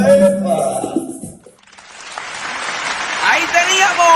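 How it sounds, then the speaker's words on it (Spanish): Applause from a comedy-talk audience follows a spoken stretch, building into steady, dense clapping over the second half after a brief pause in the talk. "Aplauso."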